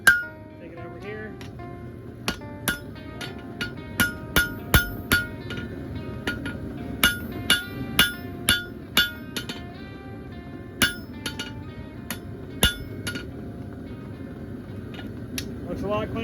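Hammer blows ring on an anvil as a railroad spike is forged into a knife: sharp metallic clinks come in irregular bursts, close and loud, over a low background hum.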